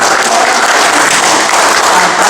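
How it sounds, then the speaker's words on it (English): Loud, dense applause from the audience fills a neighborhood council meeting, a continuous roar of many clapping hands close by with no one talking over it. "Let's give Mayor Pro Tem a round of applause."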